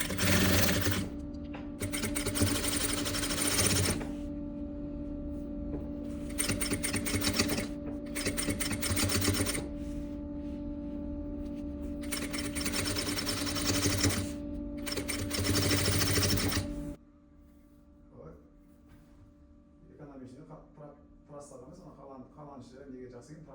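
Sewing machine stitching the lining of a boy's vest, running in long loud bursts broken by short pauses, then stopping near the end while someone talks quietly over fabric handling.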